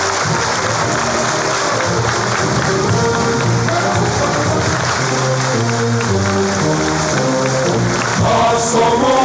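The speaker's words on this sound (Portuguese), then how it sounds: "Será recebido com efusivas salvas de palmas de todos nós." A large audience at a Masonic lecture breaks into loud, sustained applause that holds steady throughout, with crowd noise and some voices mixed under the clapping.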